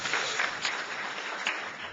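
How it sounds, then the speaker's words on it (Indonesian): A church congregation claps together, a dense, steady patter of many hands at moderate distance that carries on without pause for two seconds. "Berikan tepuk tangan buat kita semuanya."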